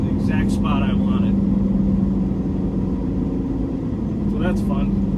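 A Peterbilt truck engine rumbles steadily and loudly up close as the truck creeps forward, a low constant drone throughout with brief bursts of talk over it.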